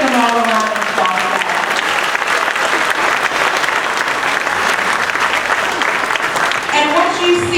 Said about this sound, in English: Let's just give them all a round of applause.